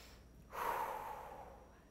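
A single slow breath during an all-levels flow yoga class, a soft rushing exhale that swells suddenly and then fades over about a second and a half, close and alone.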